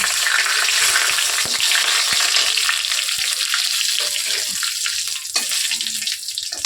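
Cinnamon, cloves and cardamom hit hot oil for a dal tempering, giving a loud, dense, continuous sizzle and crackle right up close that eases slightly toward the end, with no voices.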